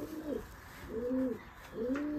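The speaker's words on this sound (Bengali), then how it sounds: "এটা গোল্ডেন কবুতর" A golden pigeon coos close by, three soft rounded low calls evenly spaced and standing out clearly against quiet background noise.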